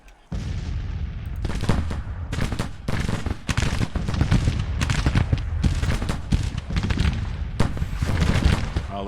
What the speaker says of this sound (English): at those guns firing from up on the hill